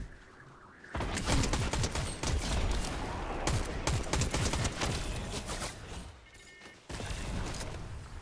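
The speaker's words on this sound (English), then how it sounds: "Getting shot." Video game gunfire crackles in dense, rapid bursts, loud and close, with a brief lull before another burst near the end.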